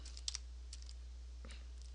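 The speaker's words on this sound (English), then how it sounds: "I'm going to type welcome to my tutorial" A few faint clicks of someone typing on a computer keyboard, brief and sparse, over a steady low electrical hum, with no talking.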